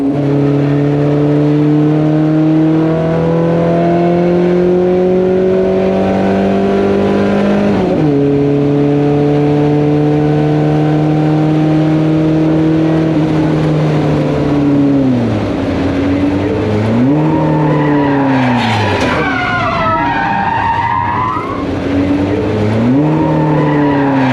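A Ford Pinto race car in a 24 Hours of Lemons endurance race accelerates hard down the front straight, engine revving up through gears with shifts, then tires squealing briefly near the end, loud and close.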